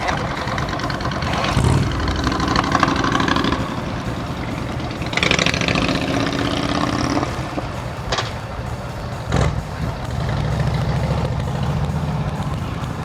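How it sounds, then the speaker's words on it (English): A small engine idles with a low, steady rumble, broken by a few sharper mechanical clunks and bursts of noise. "How about I turn my engine on?"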